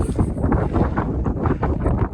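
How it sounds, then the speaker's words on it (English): Steady, loud wind on a mountain ridge of Monte Disgrazia buffeting the microphone, a continuous rumbling roar with gusty surges throughout. "Up on the ridge now, it is windy up here"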